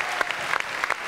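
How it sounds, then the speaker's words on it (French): A studio audience on the French TV show Coucou c'est nous claps in a short burst, scattered quick claps at close range that start and stop within about a second. "Applaudissements, mesdames, messieurs, pour ce deuxième coup."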